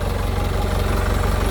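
A 2006 Isuzu Elf NKR71 truck's diesel engine idles close up with a steady, rhythmic low knock and a continuous rough rumble, and no voices are heard.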